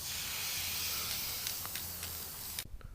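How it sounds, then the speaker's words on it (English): An aerosol can sprays paint onto a prop shotgun handle in a steady, close hiss lasting about two and a half seconds, then cuts off abruptly into quiet. "Then spray paint the whole handle black."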